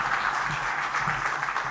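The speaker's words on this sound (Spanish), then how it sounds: "Dele una palmas al Señor por ellos." Church congregation applauding the musicians after a service song, a steady wash of many hands clapping, fairly close and continuous throughout.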